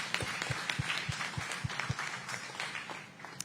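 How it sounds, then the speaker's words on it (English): Scattered applause at a SuperMotocross post-race press conference in Charlotte, NC, a few hands clapping in an uneven rhythm that fades out after a few seconds. "Big round of applause for our 250 podium."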